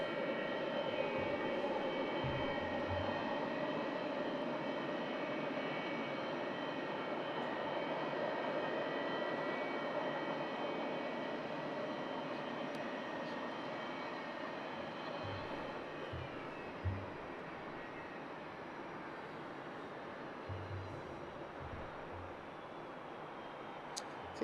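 An easyJet jet airliner at Southend Airport roars steadily with a broad engine rumble and whine, loud and sustained for the whole stretch, easing off slightly toward the end with no talk over it.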